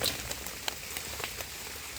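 Rain falls in a forest during mushroom picking: a quiet, steady hiss with scattered soft drop taps on leaves and surfaces, and no voices.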